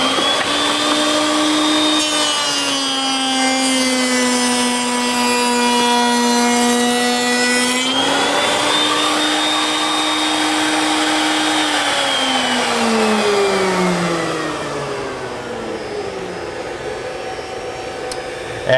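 Router fitted with a Freud bit mills a wooden door joint, a loud, sustained high whine that holds steady, rises in pitch, then drops as the bit clears the wood and spins down.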